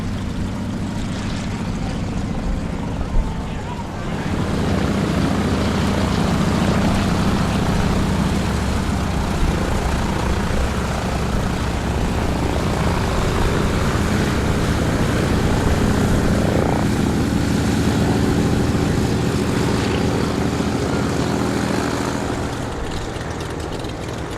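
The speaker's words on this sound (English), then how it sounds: "Swiss made Pilatus P3, one of 70 built and only 23 left flying." A Swiss-made Pilatus P-3 World War II-era trainer flies at an air show, its propeller engine droning loud and steady for the whole stretch, swelling slightly as it passes with no voices over it.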